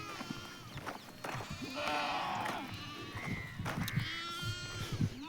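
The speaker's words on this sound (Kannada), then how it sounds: "ಸೊ ನೋಡ್ರಿ ಇವೆಲ್ಲ ಮೇಕೆ ಸೊ ಅವೆಲ್ಲ ಕುರಿ ಇವೆಲ್ಲ ಮೇಕೆ" Goats and sheep kept in a farm field bleat repeatedly nearby, several overlapping wavering cries with scattered shuffling and background noise.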